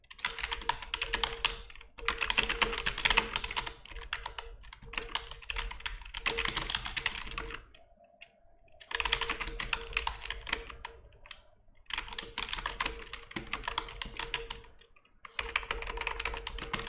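Fast typing on a computer keyboard during web development work, dense runs of crisp clicking keystrokes in bursts separated by brief pauses, close and moderately loud with no talk.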